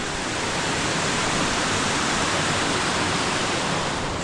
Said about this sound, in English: Small little waterfall,